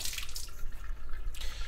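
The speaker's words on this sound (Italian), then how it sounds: "Mettiamo in una pentola con acqua e adesso riempiamo fino all'orlo." Tap water pours steadily into a pot being filled to the brim for boiling potatoes, a continuous splashing rush at close range.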